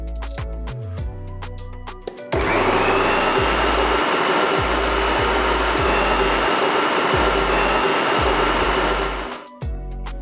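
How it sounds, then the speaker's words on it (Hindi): A mixer grinder chopping onions whirs loudly in one sustained burst of several seconds, preceded and followed by brief clinks and taps. "मैं इस मिक्सी के अरेंजमेंट में चॉप कर लेता हूँ"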